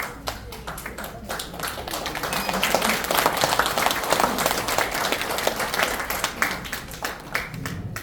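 Church-gathering audience breaking into loud, sustained applause to welcome a pastor to the stage, dense clapping swelling in the middle and holding steady throughout.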